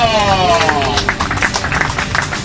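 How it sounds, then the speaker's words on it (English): A crowd applauds a qualifier introduced at the 2004 IFMAR RC car world championship in Kissimmee, with steady claps filling the space beneath a loud public-address voice and a falling tonal sound at the start. "Let's give a round of applause to Mike LaFaso."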